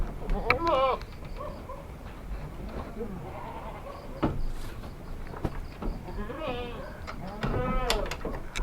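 PE goats of the Jerabang and red-head types bleat repeatedly on a goat farm in Gunungkidul, their wavering calls coming close by in several bursts while people talk in the background.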